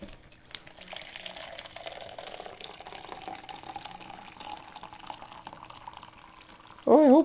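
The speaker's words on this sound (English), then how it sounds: "now we'll fill it with the coffee." Coffee poured from a Gevalia pot into a mug, a soft trickling stream under quiet room noise, ending in a brief louder gurgle.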